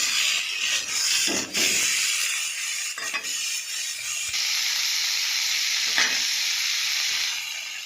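Potatoes with cauliflower and spices sizzle in a hot pan, a bright steady frying hiss with a few scraping stirs and brief bursts of steam, close up and without voices.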